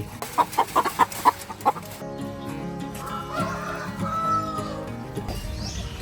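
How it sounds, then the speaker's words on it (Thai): Backyard hens about five months old clucking in a short burst of several rapid calls, fairly close, then quieter ambient farmyard sound with a faint drawn-out call. "ตอนนี้ไก่เพิ่งเพิ่งจะเริ่มไข่ เพราะไก่เลี้ยงแต่ตัวเล็กๆเลยครับผมเพิ่งจะครบ5 เดือนมันจะเพิ่งจะเริ่มทยอยออกไข่"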